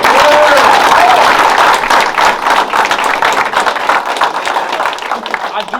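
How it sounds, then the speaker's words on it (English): Loud, dense applause from a crowd at a workplace promotion gathering, sustained clapping that stays strong throughout and eases slightly toward the end. "clap it up for them as well"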